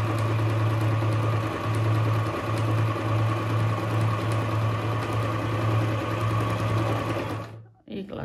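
A Pfaff Hobby 741 sewing machine stitches in a steady, loud mechanical whir with rhythmic needle clatter for about seven seconds, then stops abruptly with a faint clunk. A person talks over the machine.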